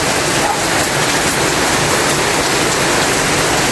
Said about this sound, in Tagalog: medyo umuulan